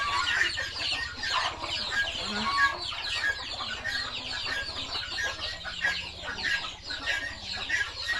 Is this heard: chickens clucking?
yes